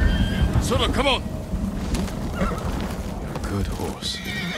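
A horse in the Ghost of Tsushima game gives a loud, wavering whinny, then softer snorts and a second neigh near the end, with hoof clops and low rumbling background throughout.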